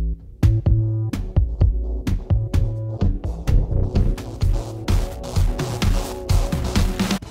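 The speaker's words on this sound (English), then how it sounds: "then the tone will be blended first and then the noise." The Transmutator plugin, a transition crossfade blend effect, is set to an inverted crossfade, so the tonal part enters first and noise follows. Sharp percussive hits over pitched tones gradually give way to denser noisy bursts, loud and without speech.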